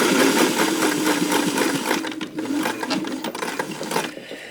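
A sewing machine runs steadily while stitching denim jeans with a long stitch length, producing a loud, continuous mechanical whir with rapid rhythmic needle clatter that slows briefly midway before resuming.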